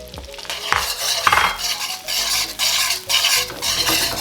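Salted egg yolks and butter sizzle in a pan over medium heat while being pushed around in quick, rhythmic scraping strokes, the utensil clattering against the metal.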